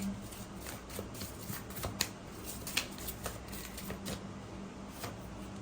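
Tarot cards are shuffled by hand close by, a quiet continuous papery riffle with a few sharper flicks and snaps.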